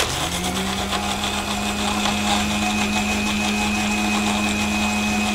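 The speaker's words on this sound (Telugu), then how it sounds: "మిక్సీ ఆడించుకుంటే సరిపోతుంది." An electric mixer grinder blends strawberry lassi with ice cubes, its motor holding a steady, loud, continuous whine with a low hum underneath for the whole stretch, and no voices.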